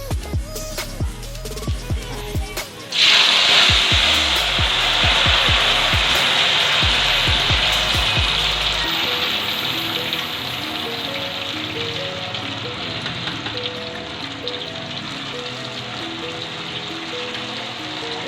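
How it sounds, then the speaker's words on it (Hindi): Sliced potato chips drop into hot oil in a kadhai on a stove, bursting into a loud, steady sizzle and crackle that runs continuously after a few dull knocks at the start. "ऑयल हमारा गर्म हो चुका है, तो इसमें हम चिप्स डाल देंगे।"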